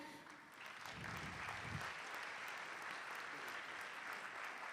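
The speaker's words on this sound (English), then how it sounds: "a big applause to Bank of Austria" Audience applause at an award ceremony during the Zero Project Conference 2026, a steady, dense wash of clapping that holds at an even level for the whole stretch, with no voices over it.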